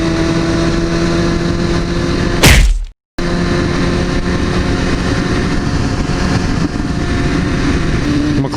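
Yamaha R6 sport motorcycle engine droning steadily while riding, with a loud burst and a brief cutout partway through before the steady engine and wind noise resume.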